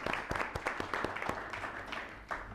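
An audience at a school board meeting applauding, a sparse patter of claps spread through the room, moderately distant and soft.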